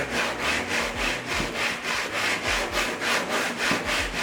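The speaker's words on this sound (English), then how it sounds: "As I'm doing my final sanding" Sandpaper wrapped on a small wood block rubs back and forth along the rail of a plywood surfboard, making a steady rhythmic scratching with even, repeated strokes close up.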